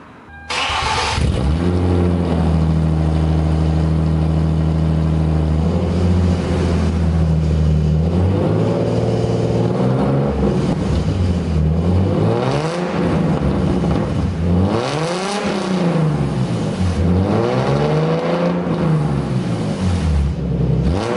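A car engine revs up and down repeatedly in loud, rising and falling sweeps after a steady idle, close by and with no talking.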